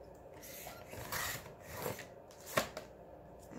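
Scissors cutting a piece of paper for a junk journal ephemera folder, a few quiet close snips and rasps in a quiet room.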